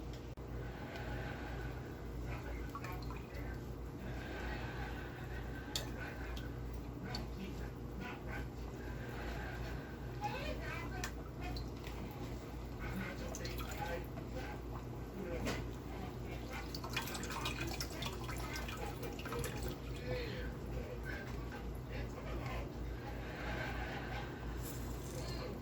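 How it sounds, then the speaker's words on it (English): Wild lettuce tea, brewed from dried and green leaves, dripping and trickling through a strainer into a container, soft steady liquid patter close by with a constant low background hum and a voice talking faintly at times. "we're going to strain this stuff down"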